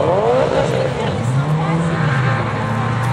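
Autocross race cars running on a dirt track at the Guimiliau 2010 final, engines droning and shifting pitch as they lap, loud and continuous with a voice talking over them.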